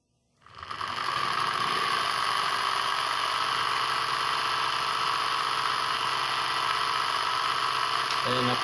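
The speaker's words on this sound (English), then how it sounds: "So I'll first show the motor on at 3 volts running." A small electric DC motor runs on 3 volts, spinning up over the first second and then holding a steady, even whine with a faint rattle through to the end.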